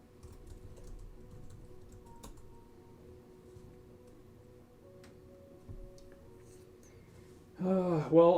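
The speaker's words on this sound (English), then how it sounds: "it sounds like he's typing" Faint, scattered clicks of typing on a computer keyboard come through a distant microphone, sparse and irregular against a quiet background before a voice speaks at the end.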